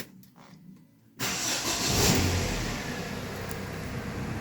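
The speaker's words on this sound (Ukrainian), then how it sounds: "Так, машинка запустилась, чек не горить." An Opel Vectra C engine starts after a quiet pause. The starter catches abruptly, the engine fires and revs briefly, then settles into a steady mid-pitched idle close by.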